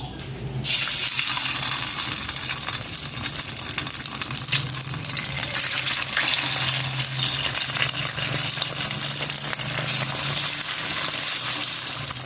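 Leftover suman rice cakes fry in a pan with a loud, constant sizzle and crackle that starts abruptly and keeps going, steady and close, with no talking over it.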